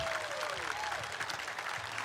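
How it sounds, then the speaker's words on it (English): Steady applause from a crowd at a Bassmaster Elite fishing tournament weigh-in at Toledo Bend, a dense wash of clapping that holds at an even level throughout, with faint background tones underneath. "let's send them a round of applause"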